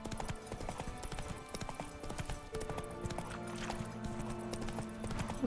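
Roach, the horse in The Witcher 3 video game, walks with a rhythmic clip-clop of hooves that stays steady and close, set over a low ambient background.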